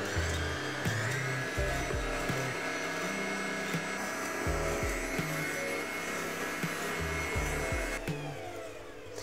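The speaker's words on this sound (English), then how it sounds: "place it on your standing mixer or start mixing with a hand mixer" An electric stand or hand mixer runs steadily on medium-high, whipping chocolate Swiss meringue buttercream in a bowl, a continuous close motor whine with faint repeated knocks underneath and no talk.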